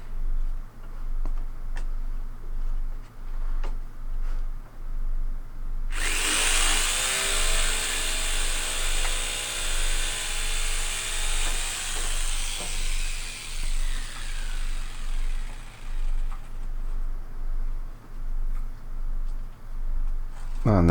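A power saw cuts wooden battens in a single loud, continuous burst lasting several seconds, after quieter ticking, over a steady rhythmic background hum.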